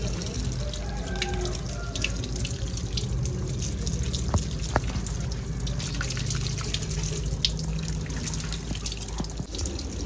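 Tap water runs steadily at a sink while henna is rinsed out of hair, a soft continuous splashing stream with faint drips and handling noises, fairly quiet and with no speech.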